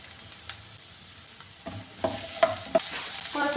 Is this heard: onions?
yes